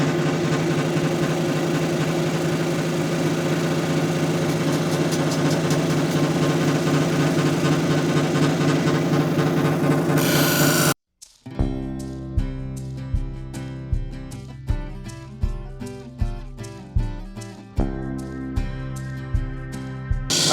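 A lapidary grinding wheel running at 280 grit on white plume agate gives a dense, steady motor whir and grinding drone for about eleven seconds, then cuts off abruptly and is followed by unrelated clicking tones.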